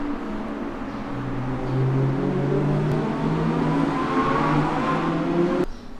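Audi R8 cars accelerate on the Yas Marina track, a continuous engine drone at middle distance rising in pitch as revs climb, heard from a hotel room beside the circuit.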